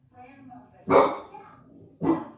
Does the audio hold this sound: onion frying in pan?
no